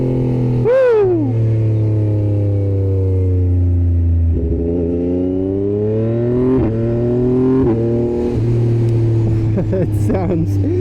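A 2024 Yamaha MT-09 motorcycle fitted with a RACEFIT Growler X exhaust rides past close and loud, its engine revving up and down through rising and falling sweeps with sharp pops. A rider's excited voice breaks in near the end.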